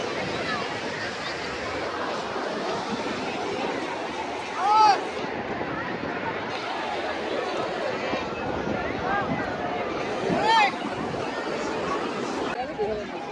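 Wind rushing past during a boat ride near Mumbai, a steady broadband whoosh with people chatting over it and a couple of brief louder gusts or knocks.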